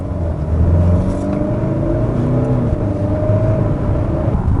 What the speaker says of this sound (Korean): 그 디젤 엔진 특유의 노킹음 그리고 진동